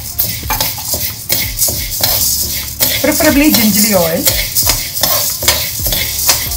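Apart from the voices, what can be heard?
lentils and chillies being dry roasted and stirred in a pan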